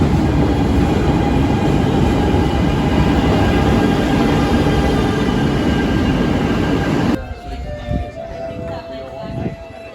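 A metro train rumbles loudly along the rails in a Barcelona station with a continuous roar that cuts off abruptly near the end, leaving quieter station ambience.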